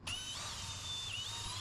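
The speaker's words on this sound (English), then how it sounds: "Now we drill all the right side doors, and then we flip it around and drill the back for the left side doors." A power drill boring holes in kitchen cabinet doors, a steady high-pitched whine with a slight dip in pitch midway, moderately quiet and close, with no talking.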